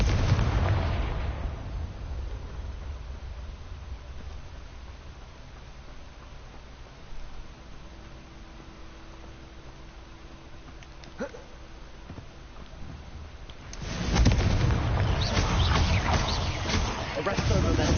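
Confringo blasting spell explosion in Hogwarts Legacy, a loud broadband burst near the end after a long stretch of low rumbling game ambience, with a few faint ticks and pops in between.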